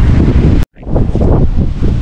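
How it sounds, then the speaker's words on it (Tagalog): Strong wind buffets the microphone at a seaside campsite in Bangui, Ilocos Norte, a loud, roaring rush that cuts out abruptly for a moment before gusting back in. "Kaya malakas ang hangin dito."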